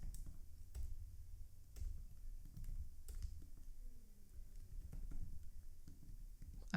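Someone types on a computer keyboard while writing code, a quiet close run of irregular key clicks and taps with no talk.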